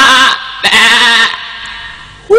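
A black sheep bleats loudly and close by, two wavering calls in quick succession followed by the start of a third.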